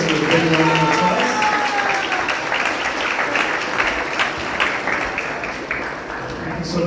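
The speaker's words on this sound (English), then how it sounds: "Let's give a big round of applause." Audience applause after a spiritual class, loud dense clapping with a few tonal cheers early on, holding steady before easing slightly near the end.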